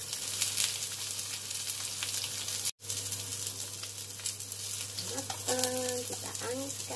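Tofu stuffed with ground fish frying in a pan: a continuous close sizzle under a low hum, broken by a brief gap, with a faint voice near the end.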